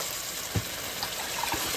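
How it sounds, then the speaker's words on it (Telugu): Water is poured into a pot holding rice and moong dal, making a steady rushing gush with a few soft plops and splashes, close and continuous for under two seconds. "2 గ్లాసుల బియ్యం, 1 గ్లాసు పెసలకండి 5 గ్లాసులు వాటర్ పోసారండి నేను"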